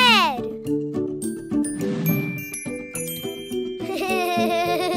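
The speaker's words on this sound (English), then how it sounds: "Let's play with the colorful Christmas bells." Colorful Christmas bells jingle and ding in a bright, busy burst alongside cheerful children's voices and playful tones from a kids' cartoon app game.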